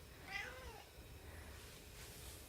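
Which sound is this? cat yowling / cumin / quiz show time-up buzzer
cat yowling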